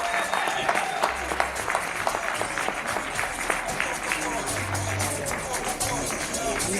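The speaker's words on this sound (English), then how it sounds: "Let's give our judges a round of applause" Audience applause for judges at an awards ceremony in Soweto Theatre, steady broadband clapping and crowd noise sustained throughout with a low hum underneath.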